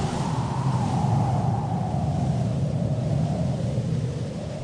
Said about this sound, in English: Now a strong wind springs up, blowing from the west, sweeping over the whole of southern Scandinavia